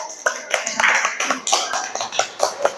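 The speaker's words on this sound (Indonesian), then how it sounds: "Kita kasih aplaus dulu ya untuk kelompok 1" Classroom applause for a student group in an eighth-grade lesson, a short burst of uneven hand clapping from several people, fairly close and lively, with faint voices mixed in.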